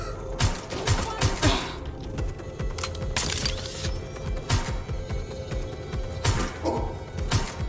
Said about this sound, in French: La tourelle les a tirés, trop bien.